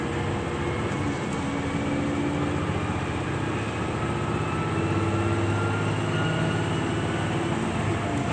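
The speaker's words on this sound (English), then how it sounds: "The diesel engine roars and the train accelerates." A loud, continuous rumble of an accelerating Super Oki diesel train, with a deep engine drone and rail noise, steady throughout with a faint high squeal riding on top.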